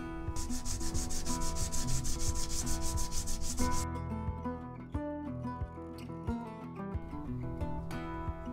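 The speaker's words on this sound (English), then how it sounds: "I'm gonna sand it down so it's flat with that" A homemade metal coin die is sanded flat with quick rhythmic rubbing strokes for the first few seconds, close and fairly loud, over steady background music that carries on after the sanding stops.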